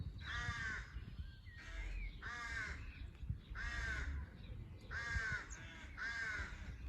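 A crow caws repeatedly in a churchyard, five or six harsh calls in a steady rhythm, fairly near and alone over faint background noise.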